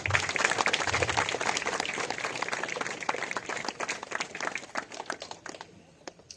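An audience claps at a college foundation-stone ceremony in KGF, Guttahalli, with dense, sustained applause that gradually thins toward the end and finishes with a few scattered claps.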